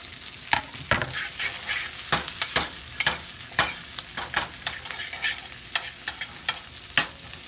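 Garlic sizzles in a pan under steady frying hiss, with frequent sharp clicks and scrapes from stirring, close and moderately loud, with no voices.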